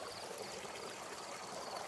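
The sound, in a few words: babbling of a small stream in a forest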